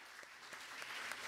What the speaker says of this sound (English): let's join me to give a round of applause to Professor Cik Fauziah